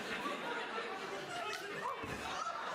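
A crowd at a live wrestling show murmurs and laughs quietly in the background, a faint, distant mix of chatter and chuckles with no strong cheering.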